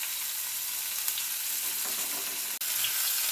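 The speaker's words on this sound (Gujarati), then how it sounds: "અને થોડીક વાર માટે આપણે તેલમાં આ રીતે સાતળી દઈશું" Asafoetida with ginger-garlic-chili paste sizzles steadily in hot oil, a dense even crackle close to the pan with one brief dropout and no talk.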